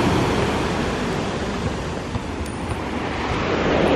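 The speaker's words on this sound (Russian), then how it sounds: "Ой-ой-ой, волна идет." Stormy sea waves break on the shore at Kobuleti, a loud, broad roar of surf mixed with wind buffeting, swelling slightly near the end with no voices over it.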